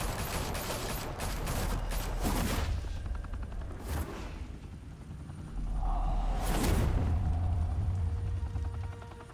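Gunfire in the video game Batman: The Telltale Series erupts in two rapid volleys with rumbling booms and whooshes between them, loud and close, with no speech.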